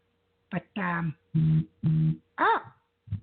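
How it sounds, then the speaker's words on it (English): A mobile phone plays its notification jingle, a short series of five or six loud, clear electronic tones, with a brief spoken word just before it. "that was my phone."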